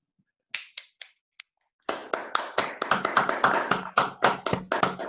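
A small audience at an academic math talk clapping for the guest speaker: a few scattered claps at first, then a brief, sparse round of distinct individual claps, close and dry.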